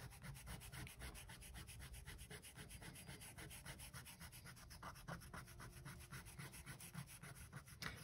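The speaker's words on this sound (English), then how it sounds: "This Tombow Mononaki eraser I have, the mechanical eraser I'm using right now, it's a pretty good eraser" A Tombow Mono mechanical eraser rubs across drawing paper in quick, rhythmic back-and-forth strokes, close and continuous, with a soft scratchy texture and no talking.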